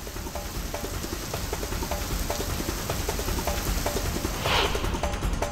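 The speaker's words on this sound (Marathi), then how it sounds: "रायगडमध्ये मान्सूनपूर्व पावसानं दमदार हजेरी लावलेली आहे" Heavy pre-monsoon rain in Raigad, India pours down in a steady, dense roar, loud and close, with no break and no voices.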